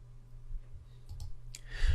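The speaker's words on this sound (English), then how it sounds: "and I click on build funnel." A computer mouse gives a few soft, quick clicks in a quiet room. A brief rustle follows at the end.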